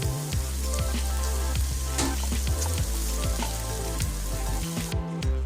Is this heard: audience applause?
no